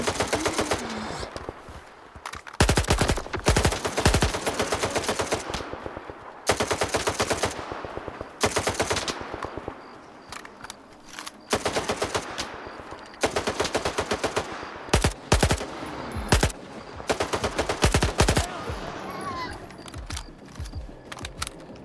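Bursts of automatic gunfire from the shooter game S.T.A.L.K.E.R. 2: Heart of Chornobyl, loud and close, firing in repeated rapid volleys separated by short pauses.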